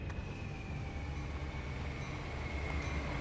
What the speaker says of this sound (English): Thought I heard a train.